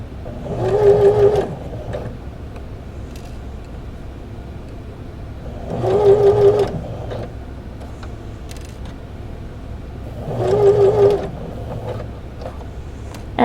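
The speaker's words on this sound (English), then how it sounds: "I'm going to stitch right off the end because I am doing a basting stitch." A sewing machine runs a basting stitch across box pleats held flat by hand, sounding in three short whirring bursts a few seconds apart with quiet pauses between.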